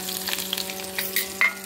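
Whole spices for a tempering, the tadka minus the cashews, frying in hot ghee with a steady close sizzle and faint crackles and pops, a constant low hum of a kitchen appliance underneath.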